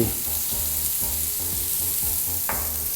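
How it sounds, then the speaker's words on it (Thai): Coriander root frying in oil with mushrooms in a pan, a steady close sizzle with faint repeated stirring scrapes and a sharper knock near the end, no talking. "เติมน้ำมันไปอีกหน่อย ถึงจะใส่รากผักชี"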